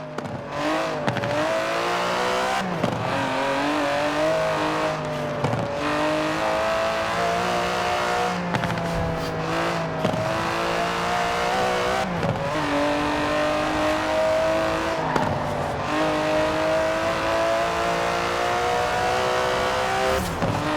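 A twin-turbo 5.2-litre V12 Aston Martin DB11 in the Forza Horizon 4 racing game, revving hard through repeated gear changes with rising and falling engine pitch, loud and continuous with no speech.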